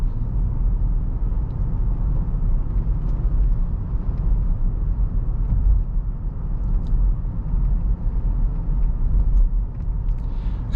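Inside a 2022 Land Rover Defender SE X-Dynamic on the move, a steady low rumble of road and wind noise fills the cabin, even and moderately loud, with no talking.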